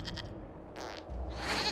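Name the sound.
goat bleating in Dragon Age Inquisition video game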